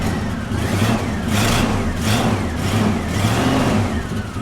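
A 1979 Ford F250 Super Cab short-bed truck engine, running rich while it warms up, revs in steady swells close by, a continuous mid-pitched rumble with no talking.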